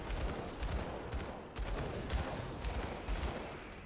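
Rapid gunfire from shooting in the action game Grim Dawn, a dense, continuous rattle of shots with booming low thumps, fairly loud and without talk.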